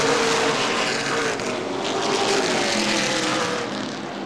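Late model sportsman race cars roaring around an oval track on a green-flag restart, a loud, continuous engine drone sustained throughout with a slight swell and fade.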